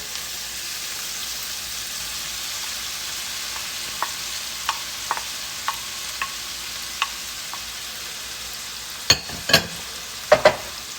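Onions sautéing in a pan for Cajun seafood étouffée give a steady, even sizzle throughout, with light clinks and a few sharper scraping stirs near the end; no one speaks.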